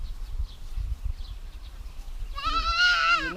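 A goat named Mocha gives one loud, wavering bleat near the end, close by, after a couple of seconds of low rumbling background noise.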